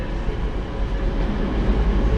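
A British Rail Class 185 diesel train rumbles steadily at a station, a low continuous engine and rolling drone with no voices.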